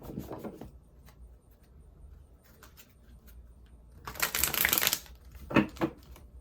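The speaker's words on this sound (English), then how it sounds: "We're gonna get 2 more shuffles." Tarot cards shuffled by hand for a reading: soft papery riffling in short bursts, a louder rapid flutter in the middle and a brief snap near the end, close and with no talk.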